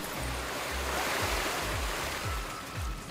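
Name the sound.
water sloshing in video game Astro Bot on PS5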